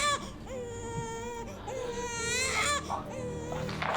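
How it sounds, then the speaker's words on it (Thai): A baby wails and whimpers in long, wavering cries that rise and fall across the whole stretch, close and fairly loud, with faint voices in the background. "เสียงเด็กร้องอยู่นั่นแหละ"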